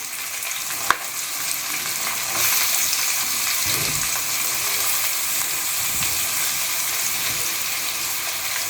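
Finely chopped onions and green chilies sauté in oil for a crab masala gravy, a loud, constant sizzle broken by occasional spatula scrapes and knocks against the pan, with no one speaking.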